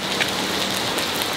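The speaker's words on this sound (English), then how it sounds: "now it's raining" Steady rain falls outdoors, a dense, even hiss of drops striking surfaces, loud and close, with no voices.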